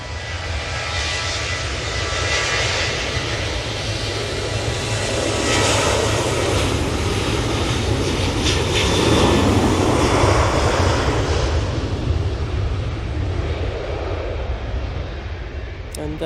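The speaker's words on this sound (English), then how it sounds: "BizJet's coming on via Victor Alpha. There's the Cessna Citation." A Cessna Citation business jet at Manchester Airport gives a steady, broad engine roar that swells and fades over about sixteen seconds, heard continuously at a moderate distance.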